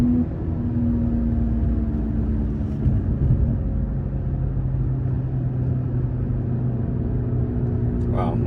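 BMW G30 540i, a 530 hp sedan, held flat out in fourth gear on a mountain road, its engine a steady loud drone with deep rumble throughout and no breaks in the roar.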